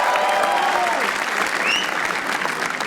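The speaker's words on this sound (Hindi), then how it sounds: "रजत सूद के लिए तालियां प्लीज" An audience gives comedian Rajat Sood a short, dense burst of applause at a roast battle show, and the clapping stays loud and steady throughout.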